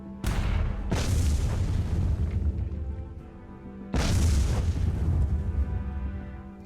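Two heavy booming cannon blasts from the sci-fi train strategy game Miner's Mettle, several seconds apart, each with a sharp onset and a long rumbling tail over a steady low hum.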